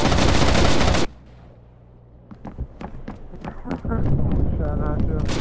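Rapid gunfire bursts in a video game kill house scrim, loud for the first second and then returning as sharp repeated shots under player voices.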